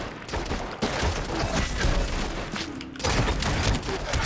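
Rapid gunfire and dense explosive bursts from a turret in a Realm Royale match, loud and continuous with overlapping booms throughout.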